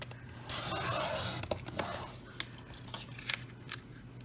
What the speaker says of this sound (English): We will cut it here.